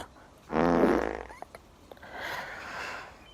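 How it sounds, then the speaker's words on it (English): A loud, wet fart sound effect rasps for about a second, followed by a softer, breathy trailing rumble, with no talk over it. "Bloody farting! Farting, I ask you!"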